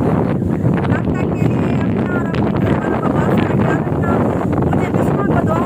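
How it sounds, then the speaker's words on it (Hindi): Loud, steady wind buffets the microphone with a rough, roaring rumble that continues throughout, with faint bird-like chirps underneath. "पता नहीं आवाज कैसे आ रही है क्योंकि बहुत तेज हवा चली हुई है।"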